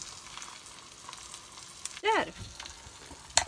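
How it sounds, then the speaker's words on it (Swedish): Ham fries in a pan aboard a boat, a quiet continuous sizzle with a brief louder clatter midway and a short word spoken. "Jag ska ju steka skinkan."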